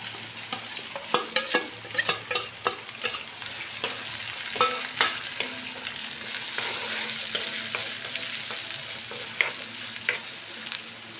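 Onions frying in a pan for a spicy curry, a continuous close sizzle broken by frequent sharp clicks and scrapes of stirring, no voices.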